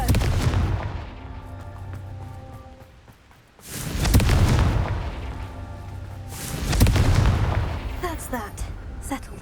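Confringo spell blasts in Hogwarts Legacy, three heavy booming explosions spaced a few seconds apart, each with a loud burst and rumbling decay, over game ambience.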